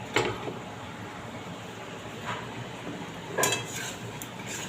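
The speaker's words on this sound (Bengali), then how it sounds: "দেখো বন্ধুরা, এবার আমি আলু আর পটলটা দিয়ে দেবো।" Potatoes and pointed gourd tipped into a pan, a few soft clinks and knocks of utensil on metal over a quiet background hum.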